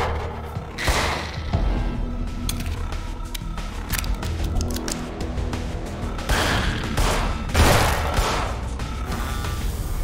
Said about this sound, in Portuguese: Tem que tomar um monte de tiro pra morrer